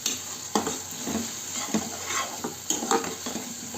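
Spoon stirring masala egg omelette curry in a pan, with scraping strokes and soft sizzling at an uneven pace, close and moderately loud, no talk.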